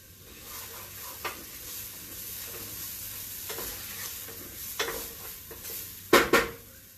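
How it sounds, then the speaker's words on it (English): Chopped onion sizzling steadily in a hot pan in a home kitchen, with a few close stirring scrapes and a sharper utensil clatter near the end. "Alright, so that onion is cooking."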